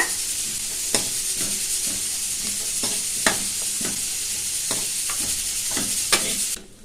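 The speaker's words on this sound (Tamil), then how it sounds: "தேங்காய் சில்லு சேர்த்து ஒரு நிமிஷம் நல்லா வதக்கிக்கிட்டாச்சு" Coconut pieces and onion with ginger and garlic sautéing in a pan for a cowpea curry: constant sizzling hiss broken by regular scraping stirs of a spoon, close and fairly loud.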